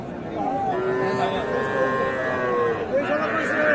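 Bull calves at a busy cattle market moo in long, drawn-out calls, several overlapping across the whole stretch, with people talking in the background beneath them.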